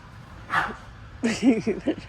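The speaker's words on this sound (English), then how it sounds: "dogs are arguing" Dogs bark, yip and whimper in a short squabble, with one sharp bark followed by a quick run of several yelps and whines close by.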